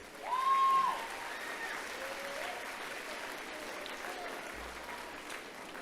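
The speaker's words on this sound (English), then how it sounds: "Please give yourselves a well-deserved round of applause." At a Lawton High School graduation ceremony in 2026, the audience breaks into a round of applause, heard from a distance and fairly soft, with a brief swell at the start before the clapping settles into a steady patter.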